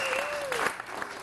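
Wedding guests applaud at a reception during the speeches, a steady clatter of clapping from a sizable crowd with a faint voice or tone gliding above it, sustained throughout the short stretch.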